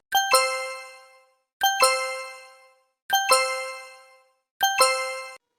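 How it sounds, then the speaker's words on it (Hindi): A phone message notification tone chimes four times at even intervals, each a bright, bell-like double ding that rings out and fades before the next, clear and alone against silence. "तुम अपना फोन चेक करो। लगता है किसी खास का मैसेज आया है।"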